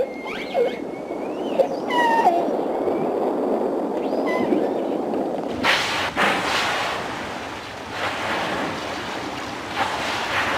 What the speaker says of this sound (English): These killer whales hunt in teams. They coordinate their movements with complex calls.